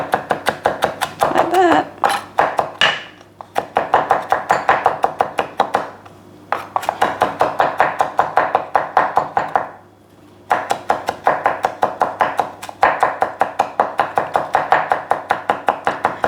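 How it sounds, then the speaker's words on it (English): A knife mincing garlic on a cutting board, striking in fast, steady up-and-down bursts of sharp close taps, pausing briefly between runs, while a person speaks a few words. "you just hold one end and just use this other end, up and down, up and down. And you have your nice minced garlic"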